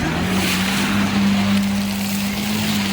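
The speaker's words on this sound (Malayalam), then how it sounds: "സ്പീഡ് ബോട്ട് വന്നേ" A speedboat runs on the sea off a beach where the Arabian Sea meets the Periyar river, its steady engine drone close and loud over wind and wave noise, alone without talk.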